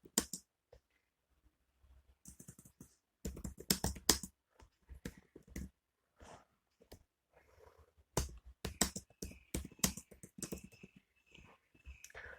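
Computer keyboard keys tapped in a quiet room, irregular clusters of close, crisp clicks with short pauses between bursts as text is entered into a new file.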